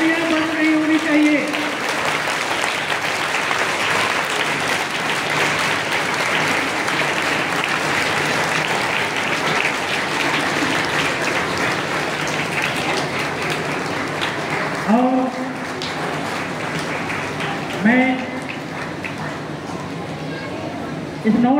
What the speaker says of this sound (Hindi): तालियां बंद नहीं होनी चाहिए।